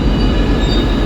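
Steady close rumble of a train riding the City Line down into Birmingham, with wheel noise and a faint high squeal running continuously with no speech.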